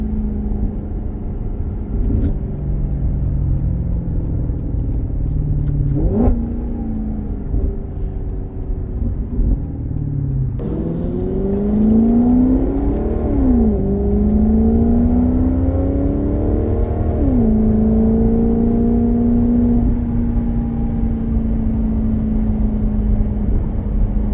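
Maserati GranTurismo engine revving up through paddle-shifted gears, loud and close from inside the cabin, with a steady rising whine broken by several distinct shift points and a deep rumble underneath.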